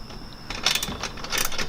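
Ratchet tightening an Invidia Gemini exhaust on a Nissan 350Z, a run of quick metallic clicks in short bursts, close and fairly loud with workshop background.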